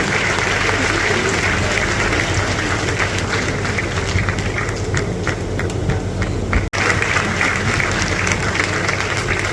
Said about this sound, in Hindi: आपकी तालियों में वो खुशी झलकनी चाहिए